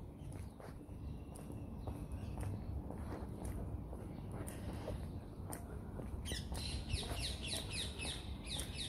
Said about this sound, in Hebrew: שומעים את הציפורים? זה אומר ששקט.